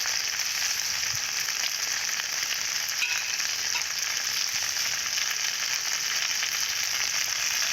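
Okra frying in a pan without spices, a steady, moderately loud crackling sizzle that runs evenly throughout with light scraping touches and no voices.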